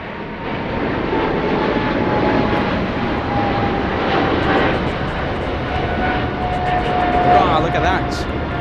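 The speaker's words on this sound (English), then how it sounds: "Big 777 departure, that one flying to Tokyo Haneda" A Boeing 777 jet departs LAX bound for Tokyo Haneda, its engines giving a steady, broad roar with a faint whine that swells slightly and holds throughout, with someone talking over it.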